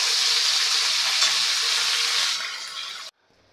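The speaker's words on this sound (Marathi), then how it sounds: "हे वाटण आपल्याला पूर्णपणे तेल सुटेपर्यंत परतून घ्यायचं आहे" Ground spice paste sizzles loudly in hot oil with cumin while cooking a pea curry, a bright continuous fry that fades over the last second, then stops abruptly, with no talking.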